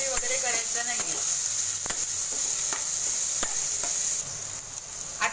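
Onion frying in oil with asafoetida over a medium gas flame for a potato bhaji, a steady close sizzle broken by a few sharp scraping stirs, with no talk.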